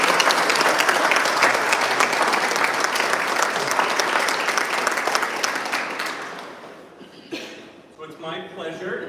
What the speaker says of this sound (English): I'd love to give them a round of applause.